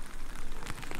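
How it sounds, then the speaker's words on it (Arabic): Rain sound used in a spatial audio demonstration, a steady dense patter of drops with broadband hiss, moderately loud and continuous throughout, no voices. "الحين صوت المطر جاي من جهة اليسار، أبي أحوله جهة اليمين"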